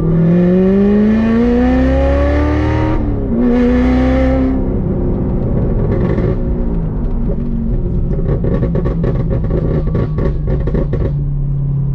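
A Chevrolet C7 Corvette, fitted with a DSC Sport magnetic ride controller, accelerates hard from inside the cabin. The engine note climbs loud and steady through a gear change near three seconds, then pulls on with crackling exhaust pops toward the end.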